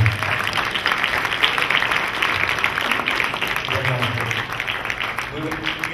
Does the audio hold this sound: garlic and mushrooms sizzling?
no